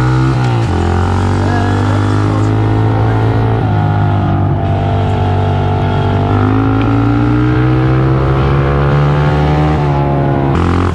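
A car speeds along, its engine roaring loud and close in a constant, heavy drone, pitch rising and falling gently as it accelerates, with no clear talk above the noise.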